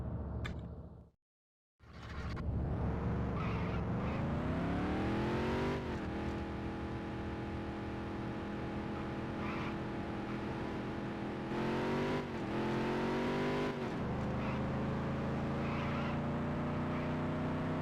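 Race car engine in the Dirt to Daytona video game, fitted with an upgraded exhaust at New Hampshire International Speedway, roaring loud and continuous with rising revs and gear shifts after a brief silent gap at the start.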